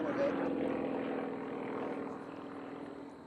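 An SU-26 aerobatic plane diving into the aerobatic box at an unlimited-category competition, a steady propeller-engine drone that fades slightly as it goes, with a voice talking over it.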